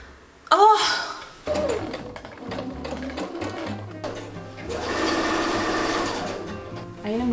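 A sewing machine stitches a milkmaid dress, its close mechanical whir starting after a sharp knock, then running in steady bursts with a brief pause, alongside some background voices.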